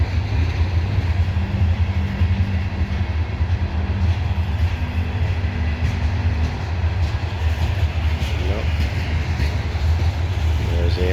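A loaded CSX coal train climbing Parrs Ridge on the old B&O mainline at sunset: a loud, continuous, close rumble of heavy rail cars and locomotive drone that holds steady throughout, with a voice faintly underneath.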